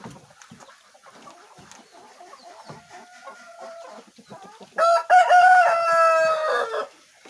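A native village hen (ayam kampung) clucks softly, then a rooster crows loudly and close at the end, in a farmyard setting.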